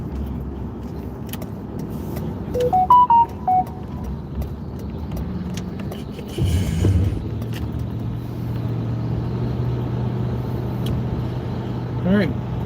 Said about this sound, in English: there's all the traffic.